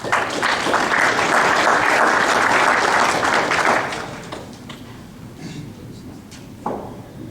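A graduation gala audience applauds loudly for several seconds, then the clapping thins out and fades to scattered claps and room noise.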